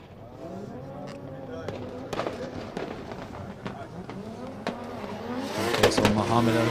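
A drift car at an international drift championship qualifying round pulls away from the start line, engine rising and revving harder toward the end, heard at a distance under steady commentary.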